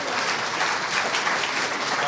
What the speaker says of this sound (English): And one more last round of applause for our CEO panel